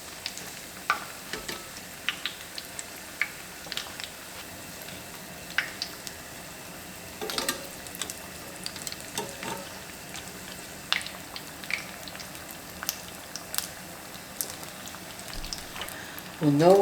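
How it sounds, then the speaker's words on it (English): Korean-style hotdogs on sticks, coated in yeast batter and panko crumbs, frying in hot oil with a steady sizzle and scattered crackles and pops, while someone talks quietly over the cooking. "Our next step is to move on to frying these babies up"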